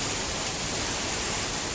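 Steady rain falls outdoors in a rural Thai setting, a dense, even broadband hiss that holds without a break for the whole stretch, with no voices over it.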